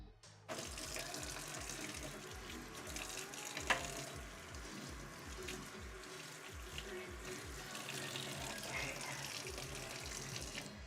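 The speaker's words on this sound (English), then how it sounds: "Get out my spoon. Gonna wash this." A spoon rinsed under a running kitchen tap while cooking a soul food dinner, with a steady rush of water splashing into the sink that starts abruptly and continues close by at an even level, no talking.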